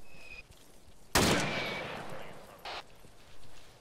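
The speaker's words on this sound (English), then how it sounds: "Hearing gunfire, who was that?" A sudden loud burst of gunfire in Arma 3 that decays over a second, followed by a couple of fainter shots, no talking.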